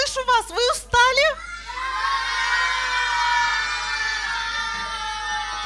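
A crowd of children at a Christmas gathering shouts and cheers loudly together, a sustained, energetic roar after a brief burst of adult speech.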